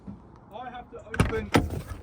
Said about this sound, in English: Go and try and open that door.